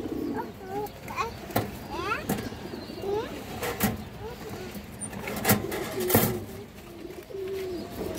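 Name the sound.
silver-blood pigeons cooing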